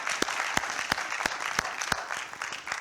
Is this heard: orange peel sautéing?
no